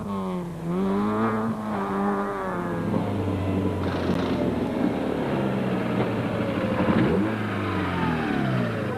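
Rally car in the Tour Natal 2006 race, driven flat out, its engine revving hard and rising and falling in pitch through gear changes, loud and close for the whole stretch with no voices.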